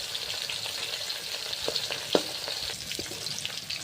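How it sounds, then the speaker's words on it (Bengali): Fish frying in hot oil, a dense continuous sizzle up close with small pops and crackles and one sharper spatter, no voices. "মাছ ভাজা হয়ে গিয়েছে, এবার তুলে নেব"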